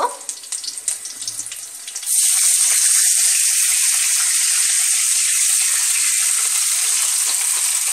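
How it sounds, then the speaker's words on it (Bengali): Water pours into a hot, sizzling pan of spiced fish curry made with mustard paste, cooking first with faint frying crackles, then a loud, steady hiss and gush of liquid hitting oil that continues up close. "এরপর আমি জল দিয়ে দেব"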